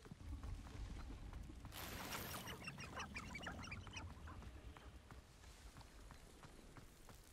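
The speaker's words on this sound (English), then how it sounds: "Hello there, chickens or hens." Farmyard fowl in Hogwarts Legacy, hens or chickens clucking and squawking in a dense burst, loudest for a couple of seconds midway, over steady game ambience.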